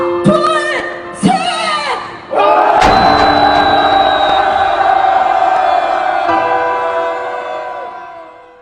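A large crowd at a political gathering in Korea roars, shouting and cheering together in a loud, sustained swell. Scattered whoops and thumps at the start lead into a long massed cheer that slowly fades.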